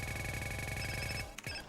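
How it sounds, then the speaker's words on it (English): Telephone ringing inside the video game GTA San Andreas, a repeated electronic ring pattern over steady game sound for over a second before cutting off. "there's a phone call."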